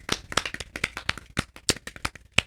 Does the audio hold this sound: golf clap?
yes